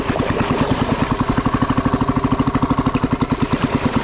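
A hand tractor engine pounds away in a flooded rice field with a loud, fast, regular thumping rhythm, close and continuous with no talk.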